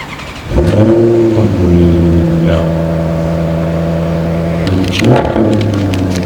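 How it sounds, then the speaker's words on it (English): A car engine cranks and starts, then revs up and settles into a steady idle, loud and close, with a second rev near the end. "I'm gonna cold start it."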